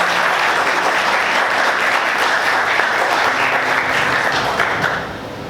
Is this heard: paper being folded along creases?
no